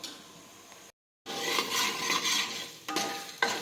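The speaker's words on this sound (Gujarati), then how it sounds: "એને પણ સાતળી લઈશું આ રીતે" Pav bhaji vegetables sauté in a pan, a soft sizzle with spatula scrapes and clinks that cuts out briefly, then returns louder with more stirring.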